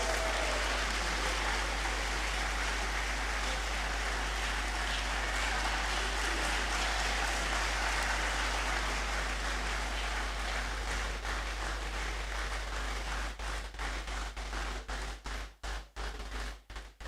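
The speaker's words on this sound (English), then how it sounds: "Keep clapping until he gets here" Sustained crowd applause at a university graduation ceremony fills the whole stretch, dense and steady, thinning into scattered claps near the end.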